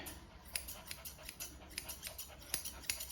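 Scissors snip repeatedly close by as a small dog's fur is trimmed under a lifted ear during grooming, giving quiet, irregular metallic clicks over a soft background.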